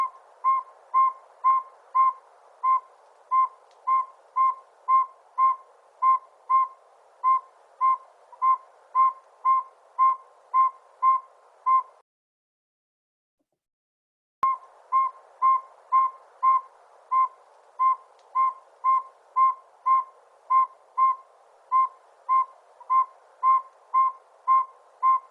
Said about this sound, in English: let's check out this cute little northern saw-wheat owl